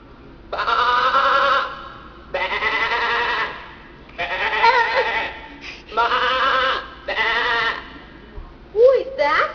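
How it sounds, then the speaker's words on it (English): A black sheep bleats six times in a row, each drawn-out call lasting about a second with short pauses between, loud and close, the last one rising and wavering. "Hey, it's that cutie pie black sheep."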